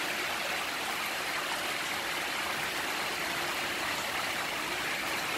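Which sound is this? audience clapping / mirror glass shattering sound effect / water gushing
water gushing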